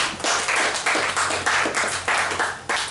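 A church congregation claps for Jesus Christ in rhythmic unison, loud steady beats roughly every half second with a faint voice underneath.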